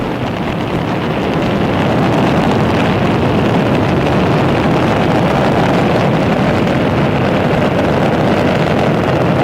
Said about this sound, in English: Atlantis' 3 liquid fuel main engines now throttling back in a 3-step fashion